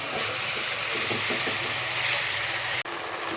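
Onions salted and frying in hot oil give off a steady, loud sizzling hiss that holds evenly throughout, broken by a single brief click near the end.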